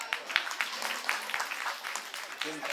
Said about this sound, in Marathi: काकांसाठी जोरदार टाळ्या.